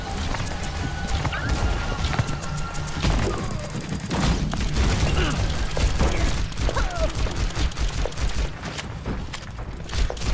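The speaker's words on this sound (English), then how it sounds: "I gotta kinda get away from all the gunfire and arrow fire and fire fire." Gunfire and arrow fire in the video game Overwatch: dense, rapid bursts of shots and impacts rattle continuously and loudly, layered over one another with no pauses.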